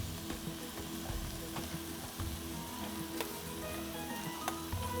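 Chopped tomato and finely chopped carrot sizzling in a pan, a steady close crackle with scattered small pops and no voices.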